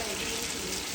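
Tadka sizzles steadily in hot oil while a village-style Pakistani lasoora (gund) pickle is prepared, a continuous close, even frying hiss with no pauses.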